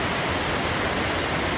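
Paterson Falls pours in a constant, dense roar of rushing water, loud and unbroken with no voices.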